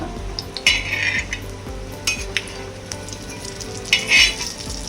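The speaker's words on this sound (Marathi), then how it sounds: "असे आपण आता सगळे तळून घेतो हे पॅटीस आता म्हणजे एग रोल एका साईडनी तळून घेतले की आपण ते परतून घेतलो" Egg rolls (egg chops, patties) shallow-frying in a pan, a steady close sizzle with occasional metallic clinks and scrapes of a utensil against the pan, with no one speaking.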